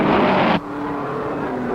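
Race cars at the 1951 Indianapolis 500 roar past, a loud engine blare that drops off abruptly into a steadier, more distant droning of cars circling.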